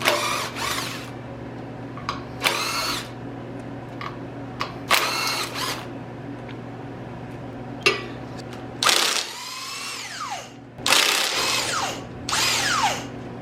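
A power impact tool on a harmonic balancer puller draws the pulley off a Ford 351W small-block engine, firing in repeated short bursts of buzzing rattles separated by pauses, loud and close over a steady low hum.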